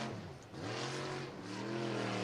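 A race car lapping the dirt oval at Cottage Grove Speedway in Oregon, its engine note rising and falling as it works through the turns, fairly distant and steady with a brief dip before climbing again.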